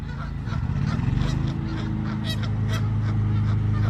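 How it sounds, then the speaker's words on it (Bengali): Geese honk repeatedly nearby, several sharp nasal calls overlapping in quick bursts over a low, steady background rumble. "এই যে গিসগুলা দেখতেছেন"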